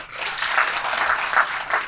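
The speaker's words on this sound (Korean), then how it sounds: "큰 박수 부탁드립니다" Audience applause at a youth talent forum as the presenter from Green Cities is welcomed: a steady wash of many hands clapping, fairly close and even throughout, with no speech over it.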